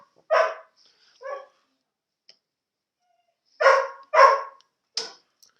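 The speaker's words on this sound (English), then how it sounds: "You got to ignore the dog if you hear him barking." A dog barks a few times at a distance, in short separate bursts with quiet gaps between, one pair coming close together near the end.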